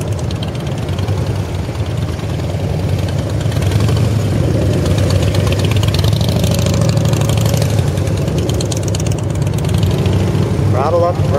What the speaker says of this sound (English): Throttle up a little, slip that clutch.